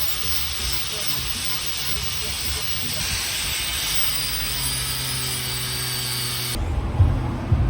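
Angle grinder wearing paint and primer off a building's metal door, a steady loud hissing whine that runs continuously and then cuts off near the end, leaving low rumbling.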